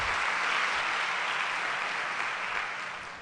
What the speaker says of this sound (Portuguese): Pode aplaudir o Senhor, querido.